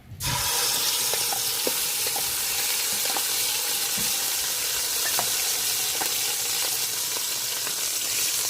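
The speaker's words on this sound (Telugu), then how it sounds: "ఆల్రెడీ మగ్గించి మరి నూనెలోకి వేస్తాను" Cooked, blended onion and tomato paste is dropped into hot oil for a village-style fish curry and sizzles loudly. A steady, close hiss runs throughout with small scattered pops.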